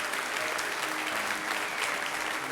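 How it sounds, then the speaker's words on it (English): A crowd gives loud, continuous applause for Eugene Pettis, dense clapping from many hands filling the room for the full stretch. "please give a big round of applause for Eugene Pettis"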